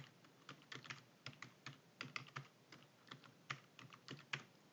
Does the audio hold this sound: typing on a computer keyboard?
yes